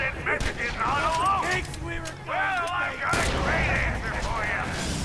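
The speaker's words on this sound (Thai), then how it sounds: "มันระเบิดครับ" Deep booming explosions in the video game Borderlands 2 burst out, one near the start and another near the three-second mark, under excited talking that continues throughout.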